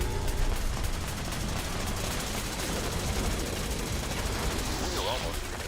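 Continuous gunfire from the Fallout 76 video game, a dense rattling fusillade of overlapping automatic shots that holds steady and loud throughout, with no talk.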